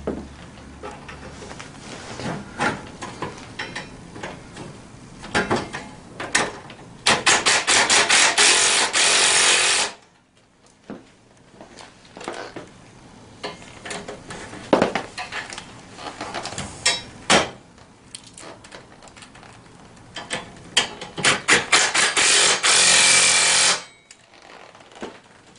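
Ratchet work on a mini ATV during assembly, a 10mm ratchet starting bolts: bursts of rapid clicking and scraping metal tool sounds, loud and close, with a quiet pause in the middle and no talk.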